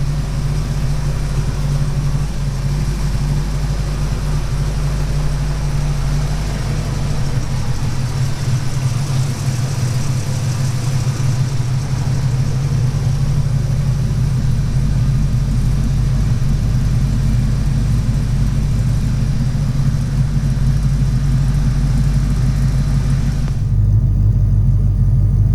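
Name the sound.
Foxbody Mustang 5.0 engine idling with aftermarket exhaust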